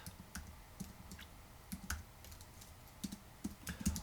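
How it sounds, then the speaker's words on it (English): Typing on an iPad's on-screen keyboard while editing text in the LumaFusion app, heard as faint, irregular taps and clicks scattered across a quiet background. "After I'm done typing, I'm going to hit the done button right above the text here"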